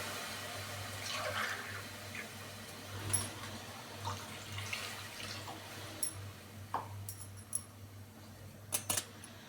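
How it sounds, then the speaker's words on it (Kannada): About two glasses of water poured into a pot of radish saaru with sambar powder, a quiet splashing gush early on, then faint drips and light metallic clinks of utensils, close and low in level. "ಇದಕ್ಕೆ ಸ್ವಲ್ಪ 2 ಗ್ಲಾಸಷ್ಟು ನೀರು ಹಾಕೋಣ"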